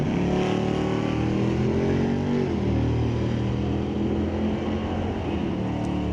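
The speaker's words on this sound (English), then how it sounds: "Craig Koka racing a 25 Corvette C8 E-Ray" A 2025 Corvette C8 E-Ray of just over 600 horsepower drag races at Mission Raceway Park, its engine a loud, steady roar whose pitch slides and shifts, with a faint crowd wash behind.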